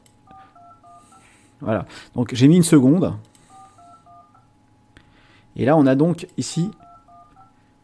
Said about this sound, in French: Donc là, j'ai mon bruit de composition